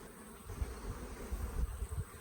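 Honeybees buzzing around a hive frame with larvae during an artificial swarm, a close, low droning hum rising and falling over a couple of seconds, no talk.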